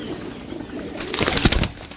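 Pigeons coo and briefly flap their wings close by while a batch of birds is counted during a pigeon parcel handover, soft cooing early, then a louder burst of wing flaps and movement.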